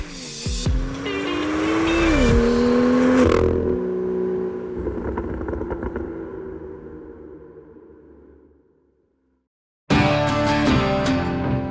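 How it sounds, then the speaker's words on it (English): A Ford Ranger Raptor pickup engine and exhaust while driving, rising in pitch as it revs, shifting, then fading away to near silence before a loud mechanical burst returns at the end. "This is the brand new next-gen Ford Ranger"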